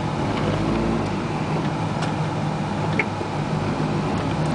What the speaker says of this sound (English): The transmission's going on the way down here. It's making a bunch of funky noises in fifth gear.